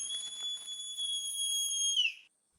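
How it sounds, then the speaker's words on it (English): A female sloth's shrill, piercing mating call in the rainforest: one sustained high whistle-like cry with clear overtones, held steady for about two seconds before rising briefly and cutting off into silence. "female sloths break their silence with the rainforest's most piercing love song"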